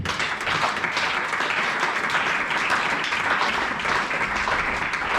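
A church congregation at a sermon applauds Jesus with steady, full clapping that fills the room for several seconds, with faint voices underneath.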